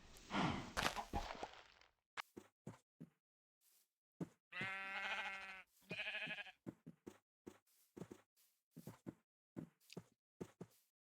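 Short, wavering sheep bleats from Minecraft (GregTech New Horizons modpack), two clear cries among quiet, evenly spaced footstep-like clicks, faint and sparse with no talking.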